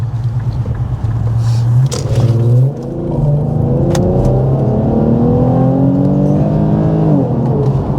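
An Infiniti Q50 fitted with AFE drop-in filters and cats accelerates hard in sport mode, its engine note climbing loud and close through several rising pulls, with a brief dip at each shift.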